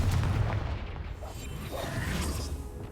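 A Confringo fire spell bursts in the Hogwarts Legacy video game, a dense low rumbling blast with crackling texture that holds steady and loud for about three seconds, no voices over it.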